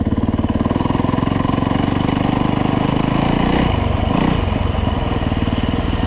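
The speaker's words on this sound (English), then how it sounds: "Second gear still. This bike will lug," A Yamaha dirt bike engine lugging in second gear while riding through snow, a loud, close, steady mechanical drone with a rapid pulsing beat that holds throughout, with no voices.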